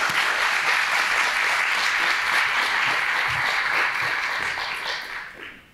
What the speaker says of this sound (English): Could we give them just a round of applause to start?